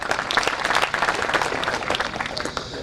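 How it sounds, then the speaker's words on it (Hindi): Applause at a celebration of 1.5 million safe manhours on a gas project: a large crowd claps steadily and densely for about three seconds, close and loud. "उन सब के लिए तालियां"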